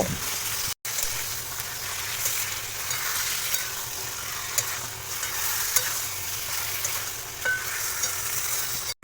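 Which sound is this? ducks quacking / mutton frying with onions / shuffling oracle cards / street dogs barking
mutton frying with onions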